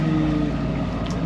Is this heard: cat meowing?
no